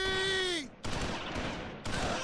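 Machine gun fire from the Close Combat IV war game crackles in a dense burst, following a brief tonal sound. The fire is loud and close, with no talking.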